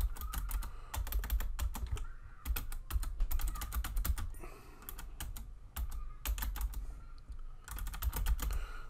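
Someone types text into Photoshop on a computer keyboard, producing quick, close clusters of light key clicks in uneven bursts with short pauses between them.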